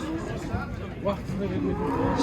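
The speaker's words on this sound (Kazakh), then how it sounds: "сиырлардың, өгізшелердің, бұқалардың саудасы" A cow gives a low drawn-out moo at a livestock market in Kyzylorda, where dairy cows, bullocks and bulls are being traded. The call sounds close, with crowd murmur behind it.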